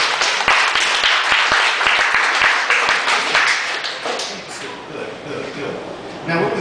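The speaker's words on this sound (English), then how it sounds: "Give him a round of applause" An audience gives a magician's volunteer a round of applause at a stage hypnosis show, with dense claps and taps at first that thin out and fade as a voice comes back over the room.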